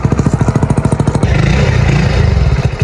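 A stock motorcycle engine and exhaust, recorded up close: first a steady run of evenly spaced thumping pulses, then it revs into a dense, continuous roar.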